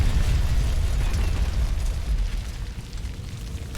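Explosion in the tank combat game Combat Mission SF 2, a deep rumbling boom that starts loud and slowly fades while debris crackles faintly, with no voices.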